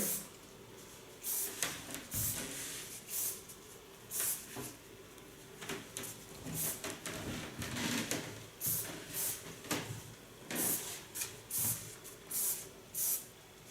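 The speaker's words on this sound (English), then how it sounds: "Using an ultra soft hairspray." Ultra soft hairspray hisses onto hair in repeated short bursts, a dozen or more quick sprays in an uneven rhythm, close and fairly quiet.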